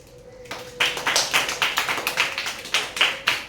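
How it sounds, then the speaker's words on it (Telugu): A small group claps together in a quick, uneven rhythm of sharp, close hand claps for about three seconds, following a short quiet lead-in with a faint steady tone. "క్లాప్స్."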